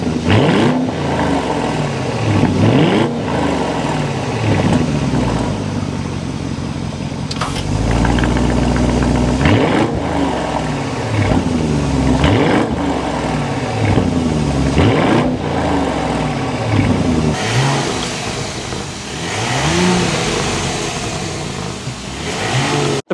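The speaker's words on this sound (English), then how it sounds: "start it up so you can hear the exhaust note" A 2024 Audi SQ8 fires up and revs repeatedly, its exhaust note rising and falling in a series of loud, close engine sweeps between idle stretches, with a brief burst at startup.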